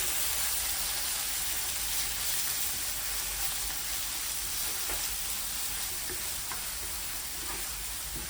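Two large chopped onions frying in a pan for a Bengali egg and potato bhuna, sizzling in a steady dense hiss that runs loud and unbroken throughout, with a few faint clicks on top.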